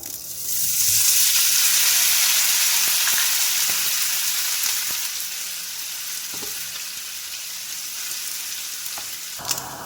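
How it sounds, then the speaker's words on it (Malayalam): Pieces of pork fry in hot oil in a pan for a Mangalorean vindaloo, with a loud sizzle surging at the start, then gradually settling into a softer crackle with occasional stirring clicks. "ഇപ്പം നമുക്ക് ഇറച്ചി ഒന്ന് ചെറുതായിട്ട് പോർക്കിറച്ചി ഒന്ന് ചെറുതായിട്ട് ഫ്രൈ ചെയ്തെടുക്കാം"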